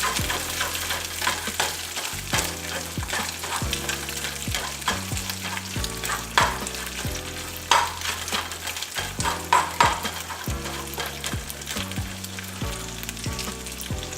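Steady frying sizzle of chorizo with a spatula scraping and breaking it up in a pan, busy and close, with occasional sharper clatters.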